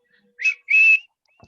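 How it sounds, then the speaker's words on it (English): A small wooden whistle is blown twice, a short tweet followed by a longer steady note, clear and close against silence. "I blow the whistle."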